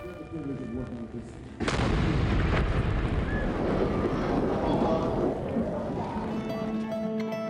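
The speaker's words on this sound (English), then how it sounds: "An explosion rocked through the city of Atlanta at approximately 1:20 a.m." A sudden heavy bomb blast in Atlanta booms out and rumbles on with a long, rolling roar that slowly fades over several seconds.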